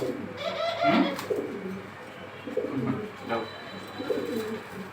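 Pet birds, pigeons or doves, coo in soft, low, repeated phrases close by, with short pauses between calls.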